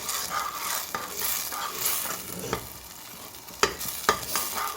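Fried onions stirred into a pot of mutton haleem, giving a soft, continuous scraping swirl over a faint sizzle, with a few sharper spoon knocks against the pot near the end.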